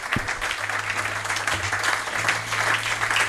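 A church congregation applauds together, a dense continuous clapping that holds at an even level for a few seconds with a faint hum beneath and no clear voice.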